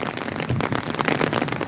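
Rain falling steadily outdoors during a city street sweep in Denver, a dense, even patter that stays close and fairly loud through the whole stretch, with no talk over it.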